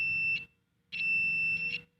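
Continuity buzzer of an analog AVO multimeter with probes touched together, giving two steady, high-pitched electronic beeps, the first short and the second longer, separated by a brief silence.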